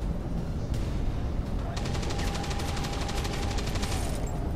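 Rapid bursts of automatic gunfire in the video game XCOM 2 Long War 2, a dense rattling fusillade that swells after a brief earlier shot, with muffled talk underneath.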